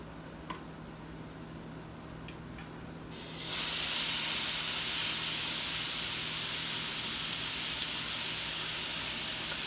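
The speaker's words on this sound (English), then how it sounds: "the pan should be ready for the steak now." Steak hitting a hot oiled pan: after a few quiet seconds a sudden, steady hiss of searing bursts up and holds evenly at moderate volume to the end.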